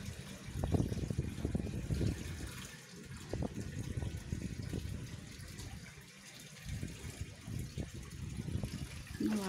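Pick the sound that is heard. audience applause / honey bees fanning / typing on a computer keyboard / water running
water running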